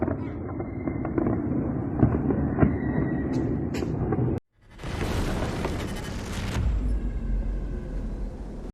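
A Russian Tu-22M3 bomber crashing in Irkutsk produces a sustained rumbling roar, then a brief silence and a harsh broadband blast that slowly fades, heard at a distance.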